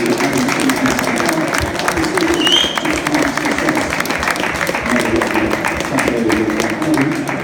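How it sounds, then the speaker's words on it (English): A full stand of spectators claps in a sustained, dense round of applause that holds steady and loud from start to finish, with voices mixed into the crowd noise. "Give me a round of applause."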